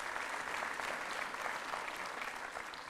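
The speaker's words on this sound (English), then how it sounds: "A round of applause" A round of applause from an audience at a Kenyan public event, steady dense clapping at moderate distance, filling the moment without any talk over it.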